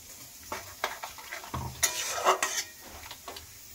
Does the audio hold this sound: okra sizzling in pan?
yes